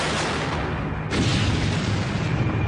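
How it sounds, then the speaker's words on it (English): RPG fired by an insurgent exploding against a US Army Abrams tank in combat in Iraq, a sudden heavy boom surging over a constant rumbling roar, loud and close with no speech. "Then, an insurgent fires an RPG."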